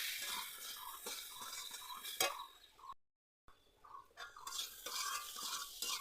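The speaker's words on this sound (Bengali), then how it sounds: "এবার ভালো করে এগুলোর সাথে মিক্স করে নেব।" Spices, chili and turmeric powder, being stirred into a potato and egg curry in a pan, with close scraping and clinking of a spoon, a soft sizzle underneath and a brief gap midway.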